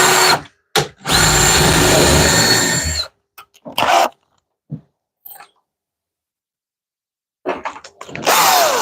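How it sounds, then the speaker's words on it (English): A power drill pre-drills holes in wood while solar mounting hardware goes onto a garden shed, running in a few loud bursts of whirring, the longest about two seconds, separated by silences and brief clicks. "Pre-drill on these."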